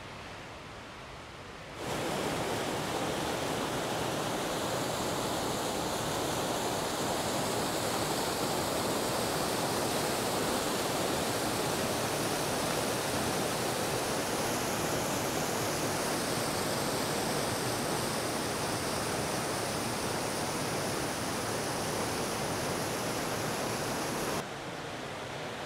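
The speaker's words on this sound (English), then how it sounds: "Moose Falls, coming off of Crawfish Creek." Moose Falls on Crawfish Creek in Yellowstone roars as a steady, broadband rush of falling water, loud and unchanging, with no voices over it.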